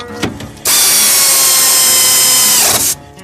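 A power tool fitted with a socket runs bolts back in. After a faint click, a loud, continuous high whir lasts about two seconds and then cuts off abruptly. No voices are heard.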